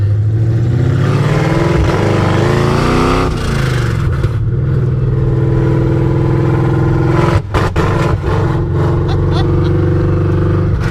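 A Coyote V8-swapped wagon with manual brakes starts and drives, its engine droning steadily and rising and falling in pitch as it revs, close and loud, with people talking over it.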